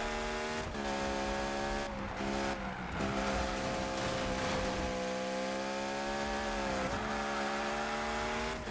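Car engine in Need For Speed gameplay droning steadily at high revs, with harmonic pitch sliding up and down through gear changes and brief dips, loud and continuous with no talking.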